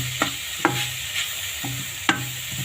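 Beetroot pickle with fenugreek powder is stirred in a pan, a soft continuous sizzle broken by four sharp scraping clinks of the spoon against the metal, close and without speech.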